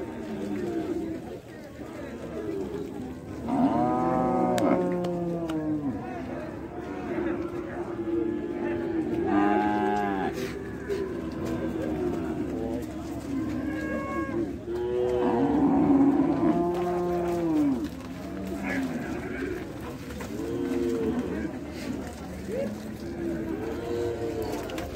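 Cattle at the Ouricuri livestock fair moo repeatedly at close range, with long, loud bellows that overlap one another over a background of crowd chatter and someone talking.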